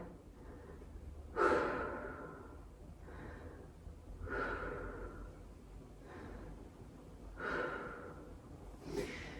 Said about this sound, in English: Take 3 deep breaths, extending out the exhale.